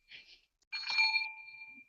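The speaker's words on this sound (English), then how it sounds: "Are you ringing the bell? Yes, I'm ringing." A bell rings twice: a short first ring, then a longer, brighter ring whose tone hangs and fades out alone in a quiet room.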